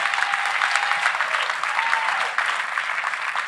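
Steady applause from a church audience at a testimony service, dense clapping sustained throughout at an even, fairly loud level.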